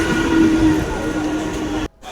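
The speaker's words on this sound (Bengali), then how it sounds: "ট্রেন ঢুকে গেছে প্ল্যাটফর্মে।" Dankuni local train pulling into platform 3 at Dum Dum station, a loud close rumble with a steady droning tone that cuts off abruptly near the end.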